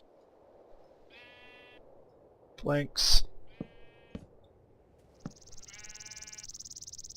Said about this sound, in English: Excuse me, sheep. Don't make me punch you.